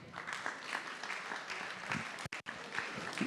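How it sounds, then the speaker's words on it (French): An audience at a round-table session on education applauds with steady, moderately distant clapping that carries on throughout, broken only by a brief dropout near the end. "Juste remercier nos intervenants, Isabelle, Cynthia de la Guadeloupe, et nos inspecteurs sous vos applaudissements"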